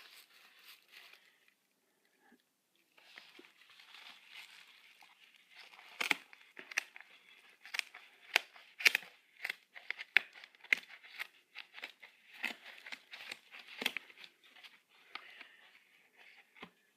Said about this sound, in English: now I'm going to cut in the middle to see if it works